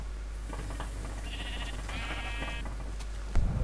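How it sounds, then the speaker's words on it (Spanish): Bleats from a pink sheep in the Minecraft video game, two wavering nasal calls in the middle of the clip, over a low steady hum that ends in a thump. "No, no, es una oveja rosa."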